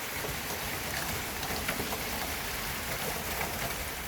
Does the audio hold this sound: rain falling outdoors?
yes